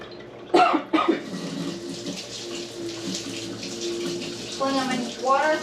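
AeroGarden pods rinsed under running water from a tap, a steady splashing stream with a couple of sharp coughs near the start and a voice briefly heard near the end.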